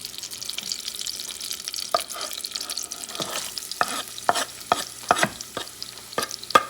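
Garlic frying in a pan for a Spanish pasta with sangria meat sauce, a soft steady sizzle broken by repeated sharp scraping clicks of a utensil stirring against the pan, fairly close and with no talking.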